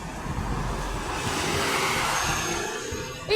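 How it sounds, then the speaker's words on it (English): Air conditioning on a Scania Enviro 400 bus gives a steady broadband whoosh with a low engine rumble underneath, holding even throughout before a short sharp rise at the end. "It's got its air conditioning on as well."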